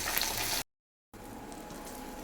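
Fish frying in a pan over a medium flame, a continuous hiss and sizzle of hot oil that cuts out briefly, then returns at a similar steady level.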